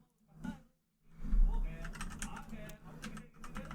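Fingers tap steadily on a computer keyboard in a quick, close run of clicks after a short pause, with a voice briefly heard beforehand.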